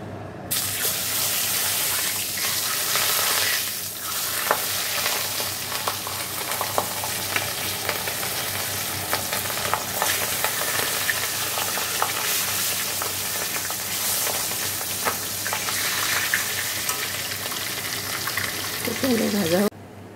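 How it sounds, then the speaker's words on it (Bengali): Marinated fish fry in hot oil in a wok, making a loud, continuous crackling sizzle with small pops throughout and a brief stir near the end. "মাছগুলো ভেজে নেবো, তেলটা গরম হোক।"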